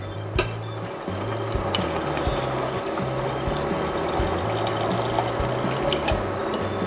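Water pours steadily into blended tomatoes in a pot for tomato soup, a continuous splashing stream with a rhythmic mechanical ticking underneath and no talking.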